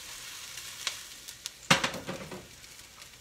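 Onions frying in a pan for shrimp pomodoro: a soft, steady sizzle with scattered crackles and pops, and a louder burst of stirring scrape midway, close and fairly quiet.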